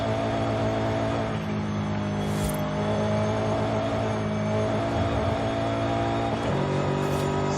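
Car engine in Forza Horizon 5, driven with a steering wheel through Mexico, revving steadily and climbing smoothly through the gears, with a loud continuous drone and brief dips at the shifts.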